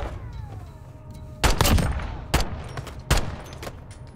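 Loud, close gunshots in Call of Duty: Modern Warfare gameplay, three or four sharp cracks spaced about a second apart over a low background hum.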